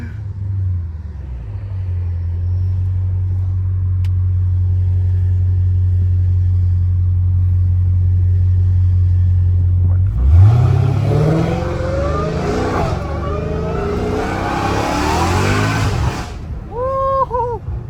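A Dodge Hellcat Redeye idles with a low, steady burble at a stoplight, then its engine roars hard up through the revs, loud and close, as it launches and pulls away; brief voice noise comes at the end.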